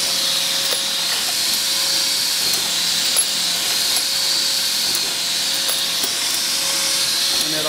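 A hand-operated Dillon 1050 sizer/trimmer cutting 5.56/223 brass cases to length, giving a steady, loud high-pitched whirring grind that runs without a break and with small clicks scattered through it.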